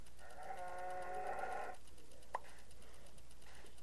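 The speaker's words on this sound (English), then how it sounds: "Now the pressure plate killed the cow." A Minecraft cow killed by a pressure plate gives one drawn-out, wavering bleat-like cry lasting over a second, followed by a short sharp blip, over quiet game ambience.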